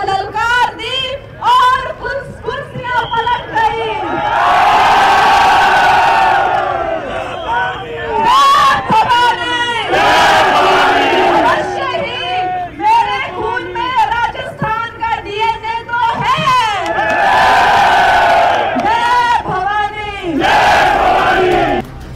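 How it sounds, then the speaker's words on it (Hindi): A large crowd at a political road show cheers and shouts in loud, surging waves that rise and fall over about twenty seconds, dense and close. "लोगों की अपार भीड़ ने कंगना का उत्साह भी बढ़ा दिया"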